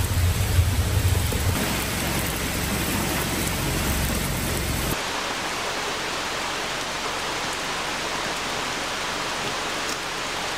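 Heavy rain in a thunderstorm drums on a car during car camping, a dense, loud, unbroken roar with a harsher, fuller first half that then settles into a steady hiss.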